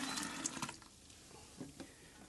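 Sparge water being poured for batch sparging in home beer brewing, a soft splashing flow that fades after a moment, faint and close.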